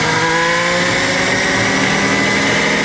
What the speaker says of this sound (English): and this is the sound of Hamilton, who ended this session in 9th